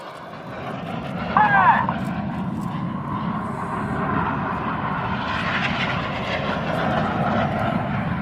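Red Arrows jets at the Southport airshow roar overhead during a display manoeuvre, a loud sustained engine rumble that swells and fades, with a commentator talking over it.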